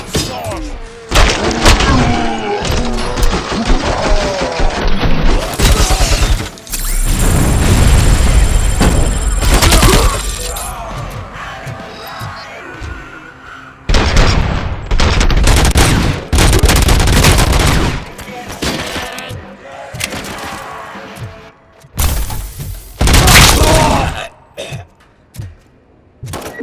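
Gunfire in the Robocop: Rogue City video game comes in loud, heavy bursts of rapid shots and thuds, broken by short quieter gaps, with voices shouting in between.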